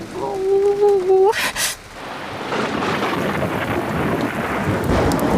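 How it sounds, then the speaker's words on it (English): A thunderstorm with heavy rain hissing steadily and a deep rumble of thunder, preceded by a short tonal call and a brief burst of noise. "You see, Julian, thunderstorms might sound scary, but they're not really"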